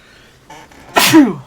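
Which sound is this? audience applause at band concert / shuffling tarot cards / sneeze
sneeze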